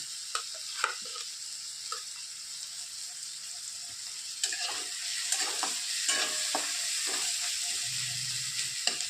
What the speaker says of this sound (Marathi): आता ह्याला पाच मिनटं परतून घेणार आहोत तर ह्या टाकत आहोत हिंग